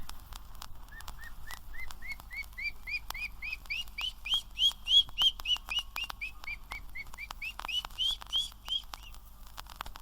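A human voice imitates a duckling's call: a long run of rapid, high, rising peeps, quick and regular, fairly close and fairly quiet, with no talk over it.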